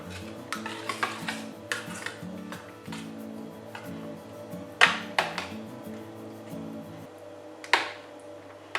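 A spoon stirs a yogurt-based gravy for chapati after coriander leaves go in, giving a series of soft scraping clinks against the pot with a few sharper taps, close by, over a steady low background hum.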